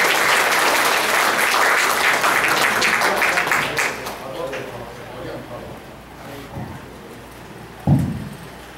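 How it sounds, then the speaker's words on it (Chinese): Warm applause from an audience in a Taiwanese community hall in Los Angeles welcomes a speaker, dense and steady clapping for about four seconds, then thinning out with a few scattered claps and a brief thump near the end. "爱用上热烈个掌声来欢迎"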